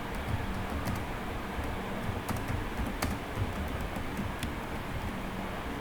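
JavaScript code is typed on a computer keyboard, a close run of quick, steady key clicks with a few louder taps over a constant low background hum.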